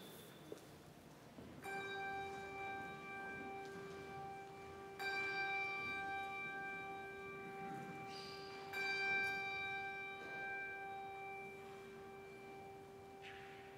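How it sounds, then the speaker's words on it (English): Church bells ring before a worship service, three clear tolls about three seconds apart, each leaving a long, steady ringing hum over a quiet room background. "at the sound of the bells, please prepare your hearts and minds for worship"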